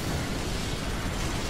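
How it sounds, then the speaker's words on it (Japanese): A dense, rumbling blast of noise fills the whole moment, loud and sustained like the tail of a nearby explosion in Earth Defense Force 5. "何爆発したの。"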